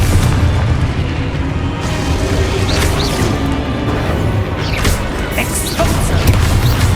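A Confringo blasting spell going off in the video game Hogwarts Legacy, with dense, loud booming blasts and crashing debris layered over continuous rumbling game sound.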